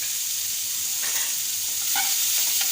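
Spice masala with cumin powder frying in a pan on low heat, a dense steady sizzle with light scraping stirs near the end, close and continuous, no speech.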